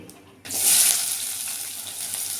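Cinnamon, cloves and cardamom dropped into hot oil for a Tamil potato milk curry, a sudden loud sizzle that bursts in and then settles into a steady crackling hiss.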